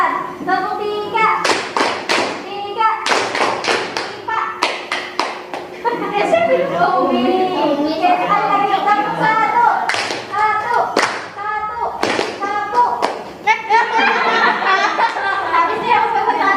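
Repeated bursts of rhythmic group clapping come from a class of children doing a concentration clap routine, each set of sharp claps followed by chatter and the voice of a teacher giving instructions.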